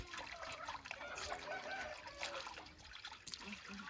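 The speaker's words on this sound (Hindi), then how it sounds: "मैं कपड़े धो रही हूँ" Water trickles and splashes steadily while clothes are washed by hand, a continuous close running sound with soft sloshing throughout.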